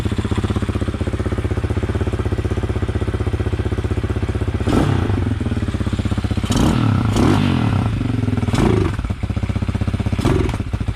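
A Hawk 250 motorcycle fitted with a Loncin RE250 engine runs at a steady, close idle, with several bursts of clattering and scraping mechanical noise over the engine's rhythmic putter.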